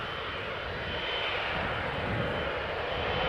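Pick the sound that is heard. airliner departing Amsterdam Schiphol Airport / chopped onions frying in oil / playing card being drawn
airliner departing Amsterdam Schiphol Airport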